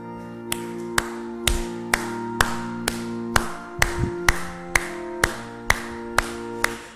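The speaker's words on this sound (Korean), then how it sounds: "찬송가 347장을 우리 박수하면서 함께 찬양 드리겠습니다" A church congregation claps in steady rhythm along to a hymn during a Sunday service, about a dozen sharp, evenly spaced claps ringing over sustained organ or keyboard chords.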